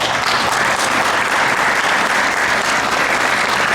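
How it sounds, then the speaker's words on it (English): Steady, dense applause from an audience at an open mosque day event, loud and continuous throughout with no speech over it. "Definitely deserves a round of applause."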